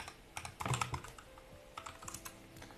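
Quiet, close typing on a computer keyboard while writing code, with bursts of rapid key clicks followed by a few scattered presses.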